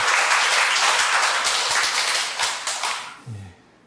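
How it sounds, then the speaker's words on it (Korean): Applause from a church congregation during a Sunday worship service, a dense, steady wash of many hands clapping that thins and fades out near the end. "박수 부탁드리겠습니다"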